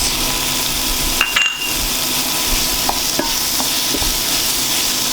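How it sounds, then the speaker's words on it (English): Shrimp cut into thirds sizzling in an oiled pan for spicy shrimp pasta, a loud, steady hiss of frying with a few light scrapes and taps of a utensil stirring. "We can add our shrimp, because shrimp really doesn't take that long to cook"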